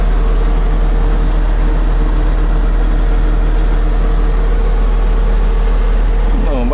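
Valtra S374 tractor engine running, a loud steady low rumble with constant mechanical hum throughout and a brief higher chirp near the end.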